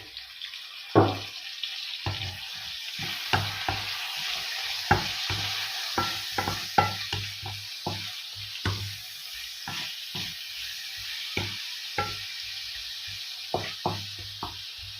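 Tomatoes fry in a pan of mung beans with a steady sizzle. A spoon clatters and stirs in irregular clinks throughout, and no one speaks.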